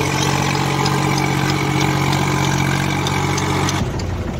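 A new tractor engine with a rotavator runs steadily at idle with a low, throbbing drone, close by, then drops off abruptly near the end.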